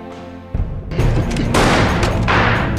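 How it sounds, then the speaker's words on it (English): Gunfire erupts loud and close after a brief musical tone, a dense burst of rapid overlapping shots that continues to the end without speech. "Shots fired."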